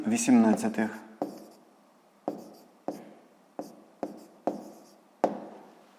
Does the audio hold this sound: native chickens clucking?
no